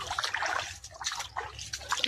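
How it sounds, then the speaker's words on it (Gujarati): Irrigation water running into a farm field, trickling and splashing steadily close by, with a bright gurgling flow that swells and fades in short bursts. "પાણી ચાલુ છે હવે"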